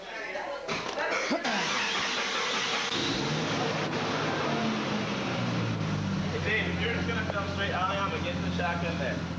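Car engine rumbling steadily as the vehicle drives, with low road drone throughout and people talking and laughing inside over it.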